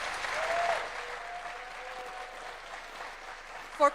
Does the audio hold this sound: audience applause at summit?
yes